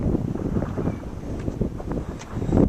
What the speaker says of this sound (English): you can probably hear it's really windy here